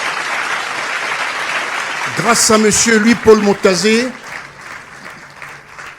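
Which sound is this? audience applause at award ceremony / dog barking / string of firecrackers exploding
audience applause at award ceremony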